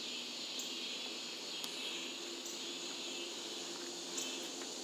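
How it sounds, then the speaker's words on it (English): A steady, faint high-pitched drone of cicadas buzzing outdoors ahead of rain, continuous and distant with no voices. "You hear the cicadas? They usually do that before it rains."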